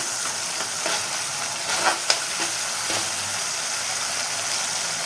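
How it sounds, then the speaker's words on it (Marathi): Chole masala sizzles and fries in oil while a spoon stirs it in the pan, giving a steady close crackle with a few sharper scraping knocks. No one speaks. "मसाला हा जो तयार झालेला आहे याला व्यवस्थित असं परतवून घ्या।"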